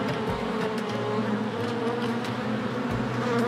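Bees buzzing steadily around a hive tucked inside an abandoned building, a dense, continuous droning hum with no voices, loud and close throughout.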